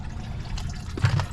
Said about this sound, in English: Now I unscrewed that plastic corkscrew right there to let the fluid come out, and got it running in the pan.